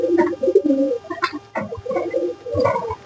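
Pigeons cooing while feeding on rice, soft low rolling coos repeating close by in short clustered phrases.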